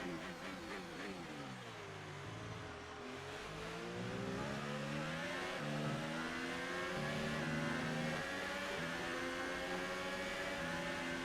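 A Formula 1 racing car engine roars in a video game race, rising and falling steadily through gear changes as other cars' engines sweep past, a continuous loud drone with no talking.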